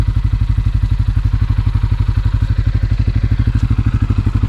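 A CF Moto C-Force ATV engine runs steadily at idle on a trail ride, a loud, close, rhythmic chugging pulse with a rattly mechanical clatter and no speech.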